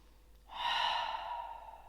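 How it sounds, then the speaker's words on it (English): A single slow, deep breath in and out while seated in a kneeling yoga posture, close and soft, rising after a brief quiet start and then slowly fading. "allows us to arrive here for one deep in breath and out breath"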